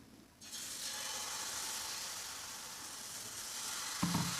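Jowar uttapam batter hits an oiled hot pan and breaks into a steady, close broadband sizzle that holds evenly, with a brief clack of a utensil near the end.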